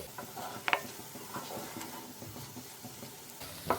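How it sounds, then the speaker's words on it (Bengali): Red spinach with dried shrimp dry-frying in a pan on low flame gives a faint, soft sizzle, broken by a few sharp spatula scrapes and clicks, close by with no voices. "এবার লো ফ্লেমে আর একটু ড্রাই করে ফ্রাই করে নিচ্ছি।"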